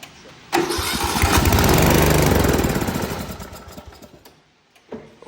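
Small gasoline engine, with the choke pushed in by hand, cranks and fires up abruptly into a loud running roar, then fades down toward quiet, with a brief sound at the end.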